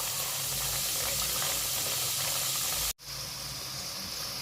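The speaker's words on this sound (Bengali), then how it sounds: "এখন এটাকে আমি খুব সুন্দর করে অল্প আঁচে একেবারে লাল লাল করে ভেজে নেব।" Potato, flour and egg snack frying in a pan over low heat, a steady hiss and sizzle that cuts out abruptly for a moment, then resumes brighter and slightly louder.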